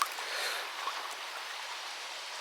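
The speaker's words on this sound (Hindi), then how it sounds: "तो वो पानी हमारा अभी इसमें आ रहा है, देखो इसको वो पूल में आता है" Water pours steadily into a swimming pool with a mountain view, a soft, even rushing hiss at close range with no voices over it.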